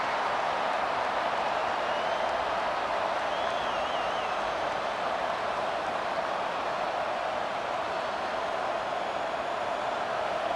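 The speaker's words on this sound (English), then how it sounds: "Here comes this home crowd as the defense tries to get off the field on third down." A home crowd at a Wisconsin Badgers versus Nebraska Cornhuskers college football game roars in a dense, unbroken wash of cheering and noise on a third down, loud and steady throughout.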